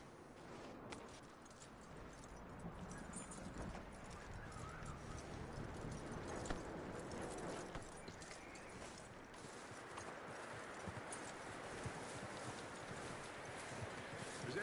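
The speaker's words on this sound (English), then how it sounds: "That looks like a decent horse." Horse hooves clip-clopping at a steady walk in the Red Dead Redemption 2 video game, a soft, even rhythm of hoofbeats running throughout at low volume.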